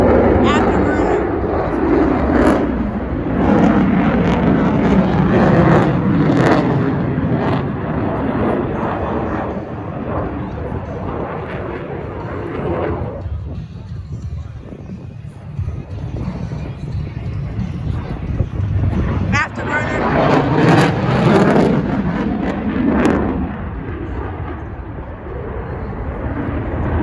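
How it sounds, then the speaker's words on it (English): A jet fighter on afterburner at an airshow, a loud roaring rush that swells and fades across the sky in long surges, with crowd voices and wind buffeting underneath. "Afterburner."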